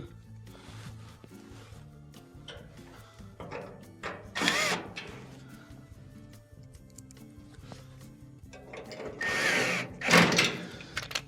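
A power drill drives quarter-inch screws back into a Frigidaire gas oven during a pressure regulator repair, with several short whirring bursts between quieter clicks and handling noises.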